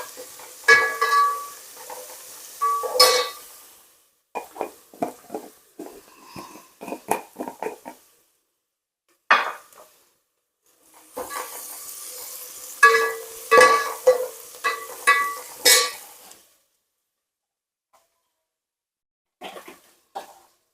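Spices and dal stirred and frying in a pan, with repeated scraping strokes and soft sizzling in bursts, several pauses between, close and fairly quiet with no talk.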